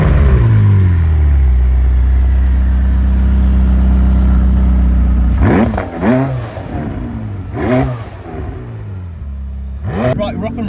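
McLaren 600LT supercar engine firing up with a loud sustained roar that settles after about five seconds into a lumpy idle, broken by a few brief blips.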